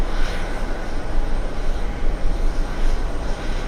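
Freighter aircraft at JFK airport, a loud, steady engine roar that holds without a break throughout and stays close.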